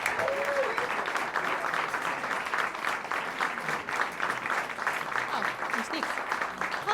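Audience applause welcomes a violinist back to the stage at a live music session, steady clapping sustained throughout, moderately close, with faint voices mixed in.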